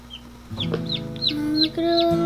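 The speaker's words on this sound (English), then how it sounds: "They're born just chirping away" Newly hatched chicken chick peeping on a farm during egg hatching, a series of high, bright rising chirps repeated several times, close and fairly loud, over a steady low hum from the incubator setting.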